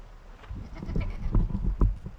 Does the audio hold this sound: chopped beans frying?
no